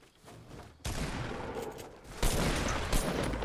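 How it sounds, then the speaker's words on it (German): Gunfire from the Fortnite video game in a loud, close barrage: a burst of rapid shots begins, then a second heavy volley follows, heard with no talking over it. "Oh mein Gott, das war der letzte Schuss!"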